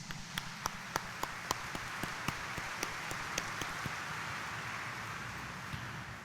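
A church congregation claps during Sunday Mass, a few sharp distinct claps at first that spread into a soft, diffuse patter of applause fading toward the end.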